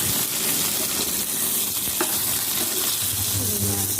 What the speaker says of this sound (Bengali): ভেজে নিই।